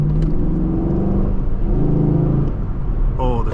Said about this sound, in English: Just listen to that V8 rumble.